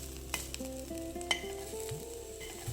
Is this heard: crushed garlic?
yes